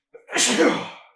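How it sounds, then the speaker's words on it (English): A single loud human sneeze bursts out close to the microphone, a quick sharp intake followed by a forceful breathy blast that fades within a second. "Hold on, I'm about to sneeze."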